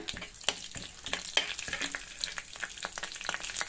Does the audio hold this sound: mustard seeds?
yes